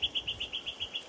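A small bird chirps in a quick, steady series of about nine bright, evenly spaced notes, fairly close and clear above a quiet background.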